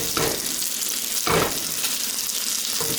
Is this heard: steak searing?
yes